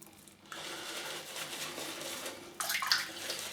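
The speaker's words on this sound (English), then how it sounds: "I'm just going to put a bit of water in here" Water running from a tap into a shaving bowl for traditional wet shaving, a steady close rush that swells louder and splashier toward the end.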